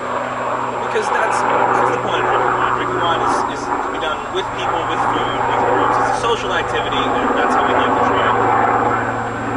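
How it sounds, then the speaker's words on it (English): Helicopter flying overhead outdoors, a steady low engine and rotor drone running continuously beneath a man's close, loud speech. "We'll excuse the helicopter drowning me out slightly."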